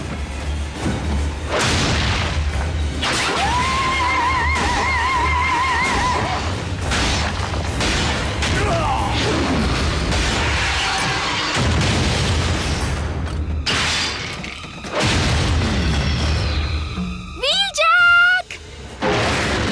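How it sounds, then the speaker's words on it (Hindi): Grenade blasts in a Transformers Prime cartoon, booming thuds and crashes repeating loudly through a dense, busy soundtrack, with characters shouting and talking over the action. "उस पर ग्रेनेड फेंको।"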